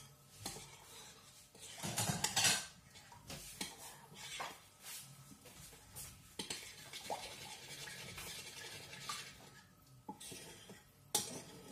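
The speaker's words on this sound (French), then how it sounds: "Un peu d'eau. On va touiller tout ça." A sauce with water is stirred in a dish while making homemade merguez, with faint, uneven scraping and clinks of a utensil against the container, quiet and close, and no talking.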